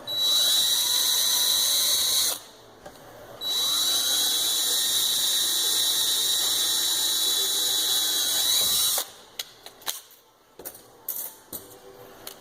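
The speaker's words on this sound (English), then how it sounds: "to make a pilot hole so the other drilling doesn't take near as long." A power drill whirs at a steady high pitch drilling a pilot hole during a fuel pump kit install, stops briefly, then runs again for several seconds before a few scattered knocks and clicks.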